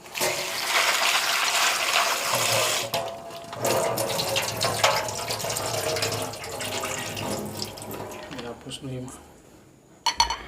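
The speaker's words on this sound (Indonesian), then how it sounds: "Nah terus kerupuknya kita akan cuci dulu ya sebentar." Crackers being washed under a running tap before cooking seblak, a steady close rush of water with clattering bits against a sink, briefly pausing and ending in a couple of knocks; speech is faint under it.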